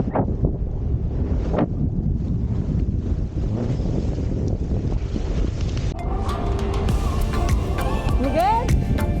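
Sea-Doo and Yamaha jet skis bounce over choppy marsh water while heavy wind buffets the microphone, with splashing and a rising engine whine near the end.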